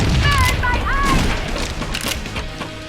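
Enemy gunfire in the Perfect Dark Zero river extraction level, a loud cluster of booming shots and bursts under in-game voices, the firing continuing more loosely toward the end.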